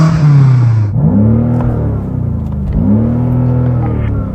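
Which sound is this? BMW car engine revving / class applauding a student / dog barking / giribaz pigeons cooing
BMW car engine revving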